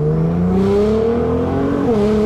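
A twin-turbo all-wheel-drive Nissan GTR accelerates hard, its engine note climbing steadily before a brief shift dip, loud and close throughout, with no talk over it.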